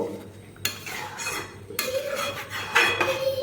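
A spoon stirs bottle gourd curry with water in a metal pan, giving close, irregular scrapes and clinks. Sharp metallic knocks punctuate the stirring, with a light bubbling hiss underneath.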